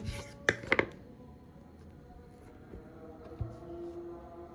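A knife cuts dough shapes for beef puri, with a few sharp taps against the board at the start and a single softer cut later, spaced apart over quiet background hum.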